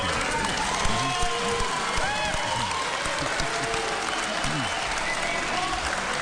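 A crowd at a televised political candidates' debate breaks into sustained applause, a thick, steady wash of clapping with murmuring voices and occasional shouts running underneath.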